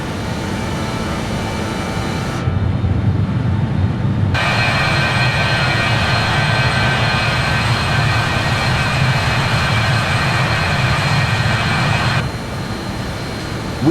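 Loud, steady engine drone inside a BAe146 airliner cockpit in a flight simulator game, a broad continuous roar with a constant tonal hum that shifts level and brightness partway through, with no talk.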